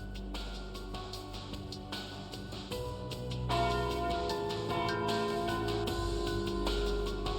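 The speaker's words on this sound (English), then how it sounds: "And there's the noon bell." A noon bell rings out across a carnival ground, sustained tolling tones layered over a dense, steady background that swells louder partway through.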